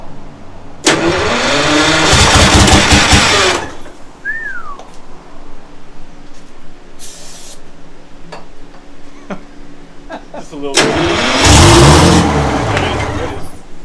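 A Detroit Diesel 6-71 engine fitted with turbo pistons cranks on starter fluid and catches, roaring loudly for a few seconds, idles rough under brief talk, then revs hard again.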